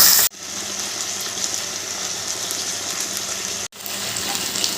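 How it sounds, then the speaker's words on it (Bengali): Water from a rinsed spice bowl is poured into a pan of frying spices for a Bengali shukto, a continuous close wet sizzle and gush broken by two brief cuts. "মশলার বাটিটা ধুয়েই সামান্য একটু জল দিয়ে দিচ্ছি যাতে তলায় না লেগে যায়"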